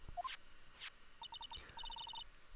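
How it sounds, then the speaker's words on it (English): A phone ringing in the Ace Attorney video game: a quiet run of short, evenly spaced electronic beeps in two quick bursts, heard after a few soft chimes, with no talking. "Hey Nick, your phone"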